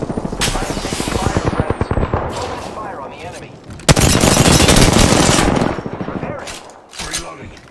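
Loud bursts of automatic gunfire in Apex Legends, sharp rapid shots in clusters with brief gaps, a heavy sustained volley in the middle, then quieter clatter and game sounds, with voice lines in between.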